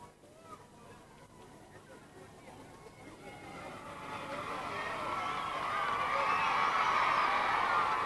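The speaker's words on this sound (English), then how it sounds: "As you can hear from the great cheer that's gone up from the children, they have now arrived at the gates" Children cheering as a royal party arrives at the gates of a marae, a distant crowd roar that swells steadily louder and broader over several seconds.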